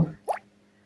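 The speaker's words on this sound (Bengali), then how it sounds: "এই ফ্রাই করা আলুগুলোর মধ্যে এই মাটনটা আমি ঢেলে দিব" Cooked mutton poured onto fried potatoes in a pan lands as a single soft, wet plop, brief and close, followed by quiet.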